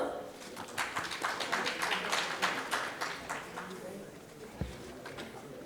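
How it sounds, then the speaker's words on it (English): An audience at a diversity and inclusion workplace session applauds a distinguished management professor, a moderate burst of clapping that fades after a few seconds, with a voice speaking underneath. "Can we please have a round of applause for sir?"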